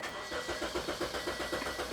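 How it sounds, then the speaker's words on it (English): A Toyota Corolla with a no-start fault cranks steadily, the starter producing a rapid rhythmic chugging pulse throughout without catching, heard fairly close. "I'm gonna crank the engine."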